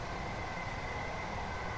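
Passenger train running in Train Sim World 2, a faint, steady broadband rumble and hum of the moving train with no distinct events and no speech.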